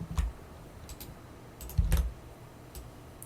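Keys tapped on a computer keyboard while entering a command to install a URDF modeling package in ROS, a few sparse, faint clicks spread out with soft low thumps in a quiet room.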